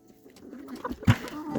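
Pet pigeons coo after the rain, a short, soft, low coo rising briefly out of a quiet outdoor background.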